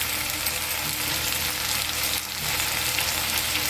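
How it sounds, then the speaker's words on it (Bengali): Hyacinth beans with shrimp and large chunks of tomato sizzle steadily in a pan with barely any water, a constant dense frying hiss with occasional stirring and no talking. "ভাজতে ভাজতে এই সবজিগুলো সব সেদ্ধ হয়ে যাবে"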